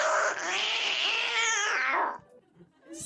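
A man imitates an angry cat with a loud, drawn-out yowling caterwaul lasting about two seconds. It ends abruptly and is followed by brief quiet rustling.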